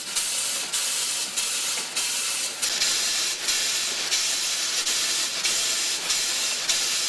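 Steady, loud hissing of escaping steam fills the whole stretch, with brief pulsing surges at regular intervals, like a locomotive venting.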